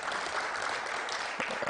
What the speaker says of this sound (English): Can we give a better round of applause